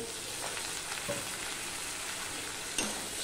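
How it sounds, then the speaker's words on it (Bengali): Spice paste of cumin, coriander, turmeric and chili powder with a splash of water frying in a pan for a katla fish curry, giving a faint continuous sizzle with a couple of soft stirring knocks. "এবার মশলাটা ভালো করে আমি কষিয়ে নেব"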